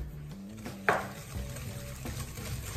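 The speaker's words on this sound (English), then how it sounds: "and mix it again until fluffy" Cake batter for an apple cinnamon cake being mixed by hand with sugar, a spoon or whisk scraping and knocking against the bowl in an uneven rhythm, with one sharp clink.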